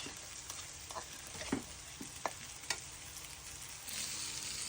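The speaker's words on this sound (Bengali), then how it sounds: "এই পর্যায়ে আমার কচুরমুখিটা ভাজা হয়ে গেছে বন্ধুরা" Taro (kochurmukhi) frying in oil in a pan, a soft steady sizzle with a few sharp spatula taps and scrapes, swelling into louder crackling near the end.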